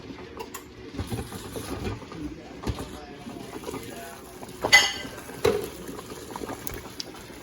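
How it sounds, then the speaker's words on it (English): Water boils in a canning pot, a steady rolling bubble with a few sharp clinks and knocks partway through. "The boiling goes away pretty quick."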